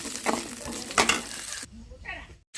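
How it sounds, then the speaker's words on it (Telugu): Food fries in oil in a home kitchen pan, making a broad crackling sizzle with a few louder stirring bursts, then a quieter stretch near the end. "తగినంత ఆయిల్ పోసుకొని ఫ్రై చేసుకున్నాం"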